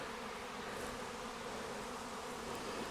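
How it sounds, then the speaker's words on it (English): A swarm of honey bees pours into a box, a dense, steady buzzing hum from many wings close by and unbroken throughout. "Let's watch them come in to this box."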